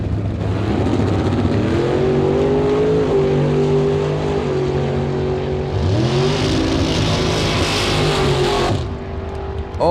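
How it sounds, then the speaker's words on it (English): Drag racing cars, a big-block 78 Malibu and a 67 Chevy, roar loud and close as engines rev and pull hard off the line, a sustained rising growl that swells again before cutting off abruptly. "Martin driving that big block equipped 78 Malibu."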